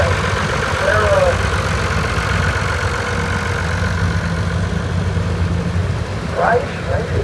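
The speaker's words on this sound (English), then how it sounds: "Next up, we've got an Allis Chalmers and Andy and Sarah" Allis Chalmers tractor idling in a tractor parade at the National Oliver Show in Boonville, Missouri, a steady loud low engine rumble throughout, with voices heard briefly near the start and end.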